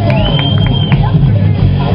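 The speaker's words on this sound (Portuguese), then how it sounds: "Agora sim eu quero ver aquele aplauso maiúsculo aí para as meninas vencedoras juvenil" Outdoor crowd at a master-level 2.5 km open-water swim event in Araruama, cheering and applauding the junior girls' winners, a steady loud hubbub with shouts and voices throughout.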